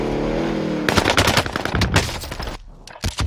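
Hip-fired gunshots in Call of Duty Warzone: a rapid, loud burst of automatic fire that comes in uneven clusters of sharp cracks, with short pauses, after a steady hum of game noise.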